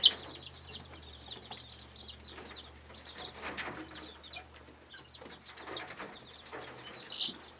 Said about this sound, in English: They've got a little chicken fight going on over here.